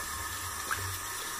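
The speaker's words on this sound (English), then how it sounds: "clean my hands real quick with the warm water still" Warm tap water running steadily into a sink while hands are washed, a close, even hiss with a slight splash partway through.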